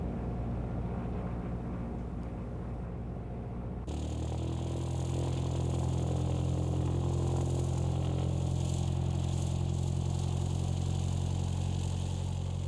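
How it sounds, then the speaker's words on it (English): A light aircraft engine idles steadily before takeoff, then after about four seconds is sped up to run-up RPM, settling into a louder, sustained droning roar that continues to the end. "Bill speeds the engine up to the RPM recommended on the checklist"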